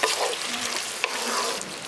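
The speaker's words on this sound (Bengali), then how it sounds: "এবারে বেরেস্তাটা দিয়ে ভালো করে আবারও মিশিয়ে দিচ্ছি।" Fried onions (beresta) are stirred into a soybean korma in a hot pan, with a steady sizzle of frying under repeated scraping of the spoon and a few sharp clinks.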